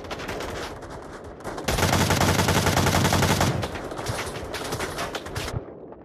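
Dense automatic gunfire in the VR shooter Onward, a continuous loud burst of rapid shots that swells even heavier midway, then keeps rattling with no talk over it.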